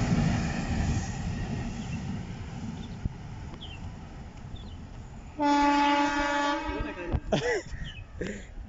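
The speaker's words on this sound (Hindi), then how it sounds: "एक पीछे ट्रेन भी आ रही है, वो शायद देवरिया ही जाएगी।" A train arriving at Salempur railway station, its rumble and clatter under a long, loud horn blast midway, followed by a few shorter horn-like tones near the end.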